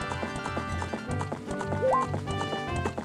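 A horse's hooves clip-clop in a steady, brisk rhythm in the video game Ocarina of Time, close and clear over a layer of game music.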